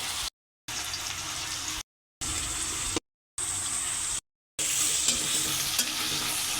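Garlic paste, onion, turmeric, chili and green chili frying in a pan for a loitta fish dish, with a steady, close sizzle and stirring broken by several short silent cuts.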